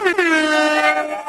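A single loud, sustained air horn blast blares for about a second, bright and brassy, with no talking around it.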